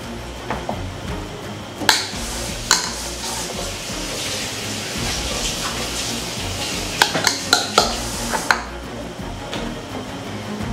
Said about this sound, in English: I'm gonna wash my pans real fast.